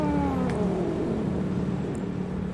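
A cat in the horror game Dread Out 2 gives a drawn-out, falling meow at the start, followed by low ambient game noise.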